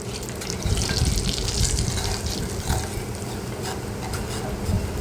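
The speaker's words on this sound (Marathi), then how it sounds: "हे मसाले तेलामध्ये आपण परतून घेऊया चांगले" Ghati masala, turmeric, coriander powder and Kashmiri chilli powder sautéing in hot oil for a village-style egg curry, giving a dense, continuous rushing sizzle with some rough bubbling and clatter underneath.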